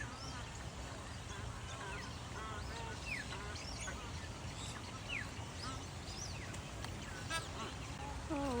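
Many birds call in Australian bushland, overlapping chirps and whistles scattered throughout over a steady bed of background noise, with soft human voices now and then.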